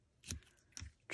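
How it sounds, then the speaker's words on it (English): Ribbon scissors snip a length of string during card making, giving two quick, quiet cuts close by with a third starting at the very end, with no talking. "grab my ribbon scissors,"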